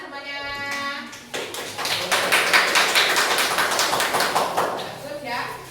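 Students in a classroom clap their hands together in a dense, steady burst of clapping that lasts several seconds, following a brief spoken voice at the start.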